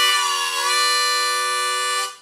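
A harmonica mimics a train whistle by drawing breath across holes 3, 4 and 5, producing a single loud, steady, reedy chord that holds for about two seconds before fading out, heard alone with no voice.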